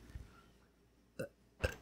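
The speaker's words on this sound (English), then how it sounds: "She burps and dies." A female video game character lets out two short, throaty burps, the second louder, after a faint low grunt at the start, with quiet pauses between.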